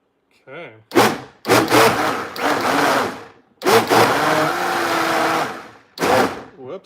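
A vacuum blender blending a smoothie whirs and roars in several bursts of varying length, with a higher buzzing tone from the vacuum system before it starts; loud, close, and no speech over it.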